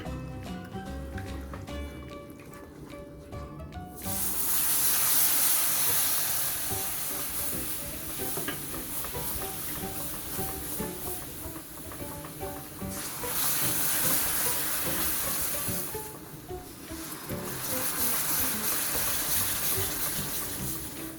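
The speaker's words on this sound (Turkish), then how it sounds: "Ve şimdi sürekli karıştırarak şerbetimizi ekliyoruz." Sugar syrup poured into roasted flour halva while it is stirred constantly, giving a loud, broad hissing sizzle of steam that surges in waves, with music playing in the background.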